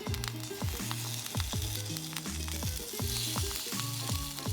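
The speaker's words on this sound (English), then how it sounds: "Put that into a piping hot griddle pan." Thin slices of marinated tofu sizzling in a piping hot griddle pan, a steady, close crackling fry with faint scraping and stirring noises and no voices.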